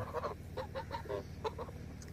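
Rooster and geese on a farm calling in a busy run of clucks and honks, several birds close by and fairly loud, with no talk over them.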